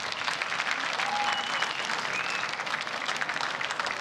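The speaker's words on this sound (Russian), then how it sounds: "аплодисменты бойцам!" Sustained applause from the crowd at an RCC Intro mixed martial arts event after a three-round fight, steady and dense throughout, with no speech over it.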